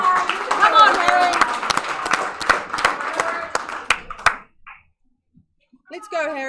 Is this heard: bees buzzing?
no